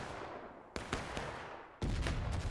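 Musket gunfire in the American Civil War video game War of Rights, two distant sharp reports over a constant rumbling background of battle, with faint crackling shots in between.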